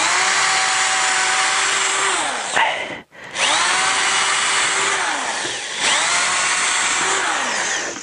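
A cordless screwdriver sinks screws into a 21 mm plywood floor, with three long, loud whirring runs that each wind down, separated by brief pauses.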